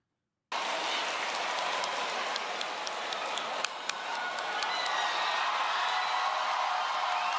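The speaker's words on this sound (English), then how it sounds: "they weren't even cheering this loud at the launch cinematic" A large crowd at the Berlin Fanfest keynote roars and claps in a dense, sustained wash of cheering that bursts in suddenly and stays loud, with scattered sharper claps and whistles on top.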